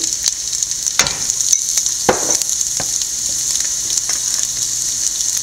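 Onions sautéing in a pan with coconut, green chilli, salt and turmeric for a Kerala-style onion thoran, giving a steady close sizzle with a few sharper stirring scrapes and clatters throughout.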